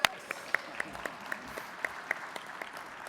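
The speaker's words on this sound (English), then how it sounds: "there's some clapping going on up here for Vancouver" An audience at a sustainable cities conference panel claps sparsely. A handful of separate, sharp claps land at irregular intervals against quiet room tone, with the crowd sounding somewhat distant.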